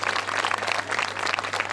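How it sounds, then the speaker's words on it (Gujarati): A crowd claps loudly and steadily for students at a school annual function, a dense, continuous burst of applause lasting throughout. "એક વખત જોરદાર તાળી પાડો અમારા વિદ્યાર્થીઓ માટે."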